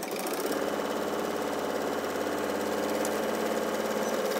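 A sewing machine runs in a steady, rapid mechanical whir while stitching the base of a quilted bag, close and continuous without pause.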